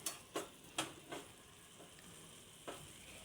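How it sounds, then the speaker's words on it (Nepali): Paneer dish sizzling and bubbling in a hot pan, with a few sharp crackling bursts and stirring scrapes over a low, steady fry, close by with no talking. "कस्तो मजाले उम्लिरहेको छ।"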